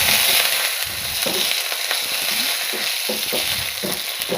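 Washed green chilies and cumin seeds spluttering loudly in hot oil for a tadka, a continuous dense sizzle with sharp crackling pops throughout and no talking.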